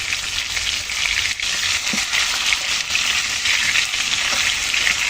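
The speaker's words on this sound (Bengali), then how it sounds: "মাছগুলো একটু উল্টে নিচ্ছি এখানে।" Fish pieces frying in a wok as they are turned over, a loud, continuous crackling sizzle with small bursts and a soft knock from the flip, with no talking.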